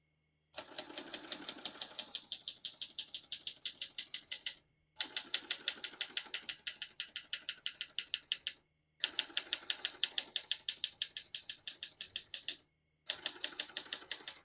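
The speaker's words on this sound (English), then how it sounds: "Once you hear the bell, you're near the end of the margin." Rapid mechanical keystrokes on a 1968 Adler Tippa S manual portable typewriter clatter in four bursts separated by short pauses, each burst a steady rhythmic run of sharp clicks close to the mic.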